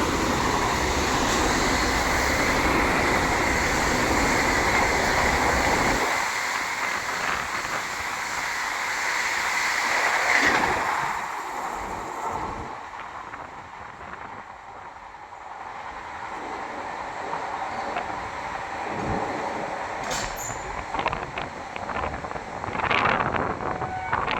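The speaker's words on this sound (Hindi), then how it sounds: "वाराणसी नई दिल्ली वंदे भारत एक्सप्रेस" The Varanasi–New Delhi Vande Bharat Express rushes past with a loud, sustained rumble and wind buffeting the microphone, then the roar thins into rattling wheels and fainter rail clatter as it recedes.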